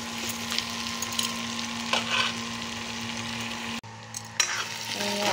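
Large cut potato pieces sizzling and frying in a pan for duck gravy, with steady close crackle and occasional stirring scrapes, briefly pausing before the sizzle resumes.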